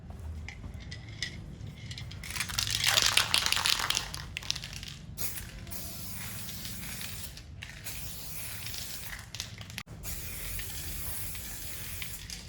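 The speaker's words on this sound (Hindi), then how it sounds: "अब जो हमें स्प्रे यूज़ करनी है वो करनी है ऊपर से" Samurai 2K clear coat sprayed from an aerosol can onto a car headlight: a hissing spray burst lasting a couple of seconds rises out of steady background noise, close and moderately loud, with no talking.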